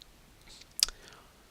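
A single crisp computer mouse click while saving a file in Solidworks, close and brief, set against quiet room tone.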